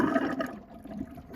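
Water gushes and splashes from a heating system as an old automatic air vent is twisted and pulled out by a plumber, a continuous close, watery rush that dips briefly midway and surges again at the end.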